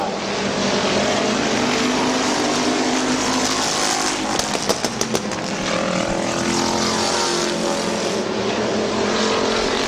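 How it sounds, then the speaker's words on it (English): Race cars circling a short speedway oval during a late-lap battle, a continuous loud engine roar with brief sharp pops midway, sustained and close throughout with no talk. "6 laps remaining for Avil as Oliver just closed the gap again"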